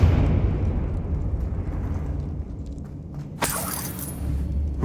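A Confringo spell explosion goes off beside a witch's sarcophagus in Hogwarts Legacy: a single sharp, loud burst with a crackling tail, cutting through a steady low rumbling ambience.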